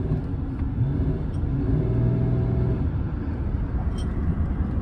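A 2017 Chevrolet Silverado 2500HD truck engine runs at full throttle, a steady, loud low rumble that holds without clear revving peaks for about five seconds.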